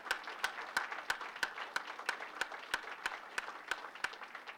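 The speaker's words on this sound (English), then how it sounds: "Give yourselves a round of applause for that." NASA headquarters staff applauding, a moderate crowd clapping with sharp, regularly spaced loud claps standing out above the steady patter.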